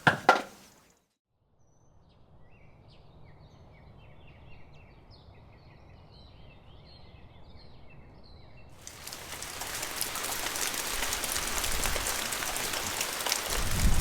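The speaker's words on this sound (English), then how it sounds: "it's raining all day today" Steady rain falls on a Portuguese farmhouse under restoration, a soft hiss that gradually thickens into a loud, dense downpour, with faint birds chirping in the background early on.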